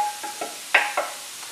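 Cauliflower rice stirred in a hot pan, giving a faint sizzle with a few light scraping strokes, quiet and close, with no talking.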